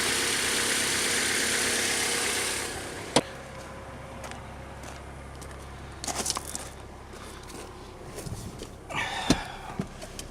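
A 2.2 liter Ecotec car engine idles at a steady hiss-like rumble, then cuts off with a sharp click about three seconds in, followed by quieter scattered clunks and rattles nearby.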